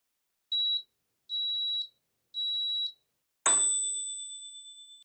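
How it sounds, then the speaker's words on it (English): Three short electronic beeps in a row from a bakery oven timer, then a ringing ding that slowly fades out, with no other sound around it. "The timer is ringing."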